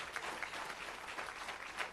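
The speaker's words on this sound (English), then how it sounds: "You need to clap very hard" An audience at an academic closing plenary applauding, steady dense clapping throughout a short stretch with no speech.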